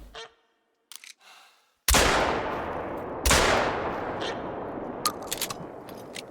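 Two loud rifle shots in a hunting video game, a little over a second apart, each with a long echoing decay, after a few faint clicks and rustles.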